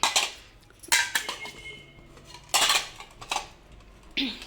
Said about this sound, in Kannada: ಮನೆಯೊಳಗಿನ ಪಾತ್ರೆ ಸಾಮಾನೆಲ್ಲ ತೊಗೊಂಡು ಆಟ ಆಡ್ತಿರ್ತಾಳಕ್ಕಿ